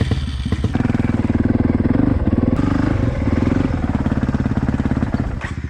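Dirt bike climbing a hill in first gear, its engine chugging loud and near in a steady pulsing rhythm with slight revving.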